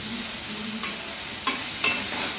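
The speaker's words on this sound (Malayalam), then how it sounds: "ഇപ്പോൾ ഒരുവിധം സവാള വഴണ്ട് കിട്ടിയിട്ടുണ്ട്, കളറ് ചേഞ്ച് ആവുന്നുണ്ട്" Sliced onions for a spicy potato curry fry gently in a pan, giving a steady soft sizzle and a couple of light spoon taps as they are stirred.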